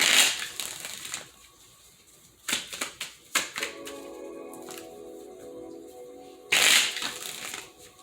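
Tarot cards are riffled and shuffled in a few short bursts of crisp fluttering, separated by quiet pauses and a faint hum.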